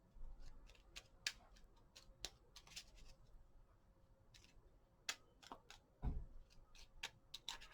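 A run of quick, crisp riffles and snaps from shuffling a deck of tarot cards, some clustered and some isolated, fairly close and quiet with no voices.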